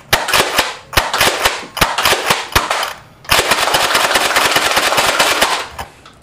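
A Nerf blaster with a rail-mounted camera fires foam darts. A few separate sharp pops come first, then a fast slam-fire burst of rapid clacking shots, loud and close.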